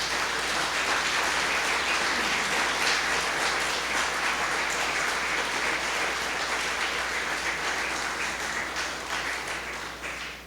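A church congregation applauds in sustained, dense clapping that carries on evenly for about ten seconds and fades slightly at the end, with no talk over it.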